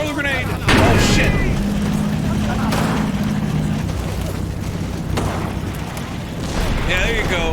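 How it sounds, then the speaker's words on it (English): A grenade blast in the WWII strategy game Combat Mission Normandy, set in Normandy with Canadian and German troops, a sudden loud boom followed by a lingering rumble, with battlefield noise and talk around it. "Don't let him throw the grenade."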